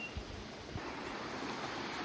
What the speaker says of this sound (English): I found an epic waterfall,